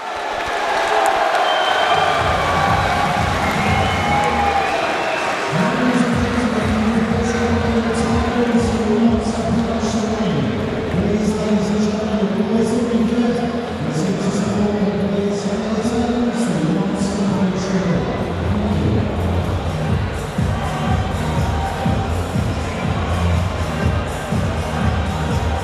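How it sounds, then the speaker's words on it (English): Crowd at a boxing bout between Chad Sugden and Luke Blackledge, a loud continuous roar of voices with rising cheers and shouts throughout, sustained and dense with no clear breaks. "you can hear the crowd in the background"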